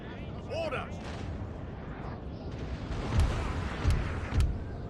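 Cannon artillery fire in the battle game Napoleon: Total War, several dull booms spaced about half a second apart, rumbling under a faint background of battlefield noise and a brief distant voice.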